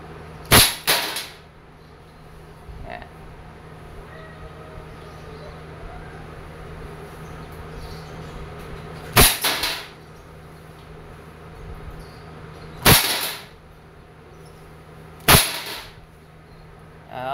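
An Umarex Legends S25 CO2 airgun revolver fires .177 pellets in single and double action: four sharp, loud cracks spaced several seconds apart over a low background hum, without talk.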